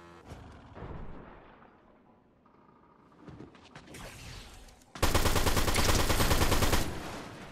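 Gunfire in the video game Fortnite crackles in scattered shots, then an intense, loud burst of rapid automatic fire takes over for a couple of seconds before easing.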